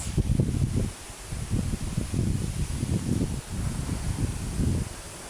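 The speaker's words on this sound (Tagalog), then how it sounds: "Lakas po ng hangin sa itaas." Strong gusts roar through trees, leaves rustling loudly in surging waves that rise and ease repeatedly, close to the microphone, with no one speaking.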